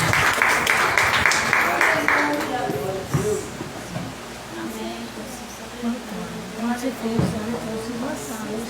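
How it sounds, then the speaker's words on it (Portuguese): A church congregation applauds to welcome a presbyter, with dense clapping strongest at first and then thinning under a voice speaking over a reverberant hall. "Receba o presbítero com as palmas a você"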